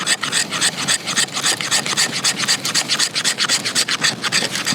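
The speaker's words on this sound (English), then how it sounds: "I always like to try some scraping on some Fatwood" An OdenWolf Ambulo bushcraft knife scrapes steadily along a stick of fatwood, a close, dry rasping in quick repeated strokes that runs the whole time without pause.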